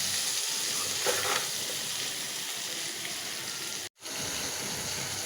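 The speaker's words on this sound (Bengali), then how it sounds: "তো আমি আবার এই মশলার মধ্যে আরেকটু ভাজা দিয়ে নিব।" Spice paste of turmeric, chilli and coriander powder with salt fries in a pan, a close steady sizzle with stirring, broken by a brief cut of silence near the end.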